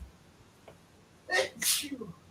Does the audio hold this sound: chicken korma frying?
no